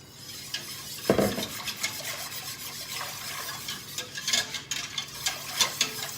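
Milk being stirred into a lasagne sauce in a pot, with soft scraping and clinks of a utensil against the pan, quiet and intermittent, and one louder knock partway through.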